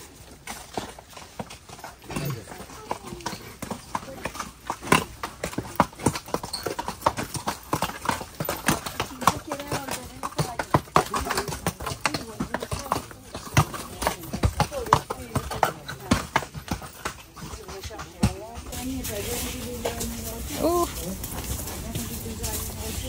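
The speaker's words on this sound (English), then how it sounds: "You gotta get out of the horse's way." A horse's hooves clip-clop steadily along a trail in Tayrona National Park, close and fairly loud, with people talking intermittently over the rhythmic steps and occasional rustling.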